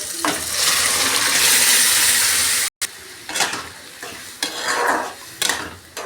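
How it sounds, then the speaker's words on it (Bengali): Lentils are poured into a pan of fried tempering with chopped tomato, a loud surge of sizzling and splashing followed by a short gap, then stirring scrapes and bubbling, close by with no talk. "এইভাবে ভেজে নেওয়ার পর আমরা এই ডালটাকে দিয়ে দেব"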